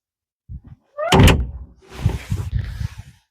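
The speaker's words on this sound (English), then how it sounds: "This lever is to unlatch the door. And now you can pull it open." On a JoyT5 JT5600 excavator, the cab door gives a short latch click, then a loud metallic clunk as it unlatches, followed by a rattling, scraping swing as the door is pulled open, heard close up with no talk.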